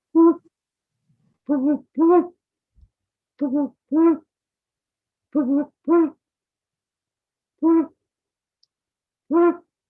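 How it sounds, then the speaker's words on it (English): A Flammulated Owl in forest gives nine low, deep hoots, some single and some in quick pairs, spaced evenly with silent pauses between, clear and alone. "that's the Flammulated Owl. Sounds like a much bigger bird than it actually is."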